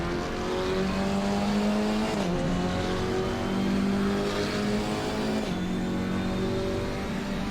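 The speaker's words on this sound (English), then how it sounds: "That muted sound makes you really feel like you're inside the car." Muffled in-cabin engine note of a GT4 race car in the racing game Assetto Corsa Competizione, rising steadily through the gears with brief dips at two shifts and a continuous road rumble beneath.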